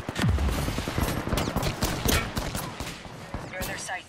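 Rapid, dense Apex Legends gunfire in a trios match, a near, loud string of shots with sharp reports crowding together for the whole stretch, with a voice talking over the fight.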